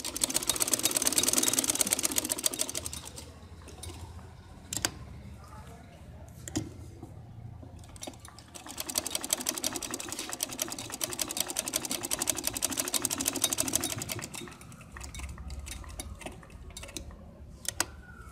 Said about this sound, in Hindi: मैं सिर्फ इसको लास्ट पे सिलाई लगा रही हूँ